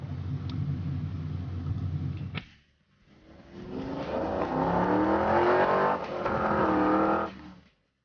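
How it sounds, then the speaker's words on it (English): A van engine drones, dips briefly, then rises again and revs through climbing gears before cutting off, loud and close with no voices. "we're going to ride the van"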